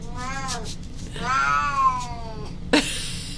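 A cat gives two long, drawn-out meows close by, the second louder and wavering, then a short sharp sound at the end over a low background hum.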